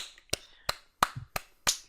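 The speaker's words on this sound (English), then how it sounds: "How did we make that clapping almost sound like it was in an auditorium?" Five sharp percussive claps or snaps, evenly spaced about a third of a second apart, close and crisp with a slight hollow echo, standing alone without talk.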